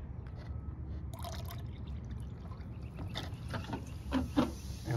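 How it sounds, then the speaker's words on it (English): Muriatic acid poured onto calcite rock, giving a soft steady liquid trickle with faint drips and small fizzing pops over low background rumble, quiet and close, with no talking. "I'm going to add some more acid."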